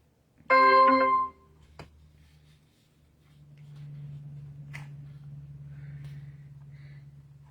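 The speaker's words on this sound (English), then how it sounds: "My phone's dinging at me" A short harmonic chime rings once from a phone notification in a quiet room, bright and clear for about half a second, followed by faint taps and a low hum.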